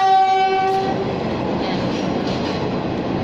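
A passing train sounds a loud, steady horn for about a second, then the continuous heavy rumble and rattle of rail cars rolling by close at hand fills the rest, with no talk over it.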